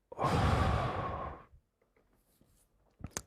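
A single deep breath, a long loud exhale lasting over a second, followed by quiet stillness and a faint breathy puff at the end.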